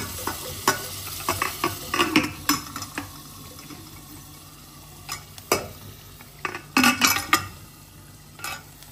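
Mutton fries in oil with a ground spice paste, a low sizzle beneath intermittent bursts of spoon scraping and stirring against the pot, close and uneven, with no talking.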